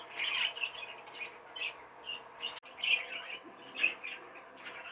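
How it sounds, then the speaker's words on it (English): A young Lutino pet bird, offspring of an Ino hen, gives repeated short squawks and chirps in bursts, fairly close and clear, with no talking. "Nice little pet bird, I guess."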